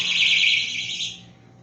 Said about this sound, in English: Please, sound the alarm again.